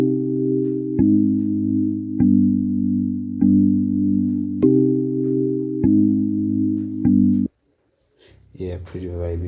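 A chopped beat sample pitched down an octave in FL Studio plays as a run of sustained harmonic chords, cut into even chunks roughly every 1.2 seconds, then stops abruptly before a voice speaks at the end.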